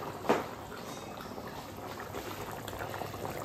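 A pot of chicken curry at a steady boil gives a continuous bubbling simmer throughout, close and even, with one brief louder knock near the start.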